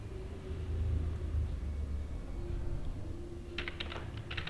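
Java code being typed on a computer keyboard: a few quick clusters of close key clicks near the end over a constant low rumble.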